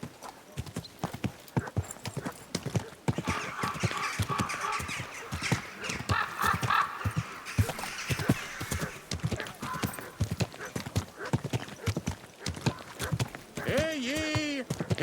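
In Kingdom Come Deliverance II, a horse's hooves clip-clop in a steady walking rhythm throughout, and a clear neigh rises near the end while voices talk over the hoofbeats.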